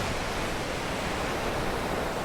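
Small ocean waves breaking at Doheny State Beach in Dana Point, California, heard as a steady, dense roar of surf and wash, continuous and without pauses.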